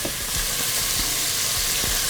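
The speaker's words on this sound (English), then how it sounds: "you keep moving it around in the pan, because your sun-dried tomatoes will char very quickly" Sun-dried tomatoes sizzle in a hot pan for a Tuscan soup, a steady bright frying hiss broken by soft scraping strokes as they are stirred around, close and continuous with no talk.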